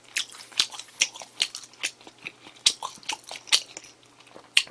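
McDonald's french fries being eaten during a fast-food mukbang, a series of close, crisp bites and chews at an irregular rhythm with quiet gaps between them, no talking.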